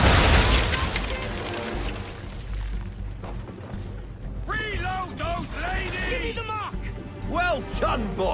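Deep booming cannon fire from a ship's broadside in Assassin's Creed III, set at sea. Heavy rumbling blasts open the clip and roll on under voices and shouting, with a close, loud low end.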